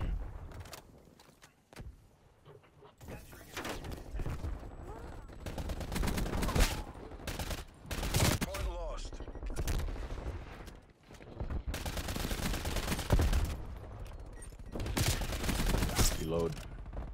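Gunfire in a video game, with repeated loud bursts and automatic volleys coming in waves throughout, mixed with mechanical clatter, busy and close.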